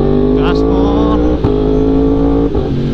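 A Yamaha R1M superbike engine hums loud and constant at high revs, with brief dips as the quick shifter snaps through gear changes.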